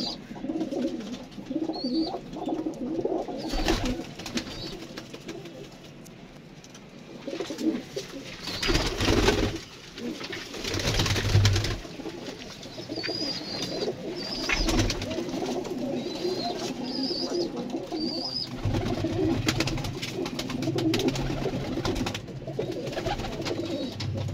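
Kamagar pigeons coo repeatedly in soft, throaty calls over a steady ambient background, with a few louder bursts of nearby handling noise scattered through.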